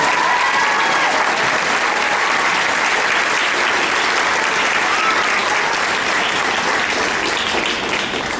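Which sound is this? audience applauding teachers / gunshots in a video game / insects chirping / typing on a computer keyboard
audience applauding teachers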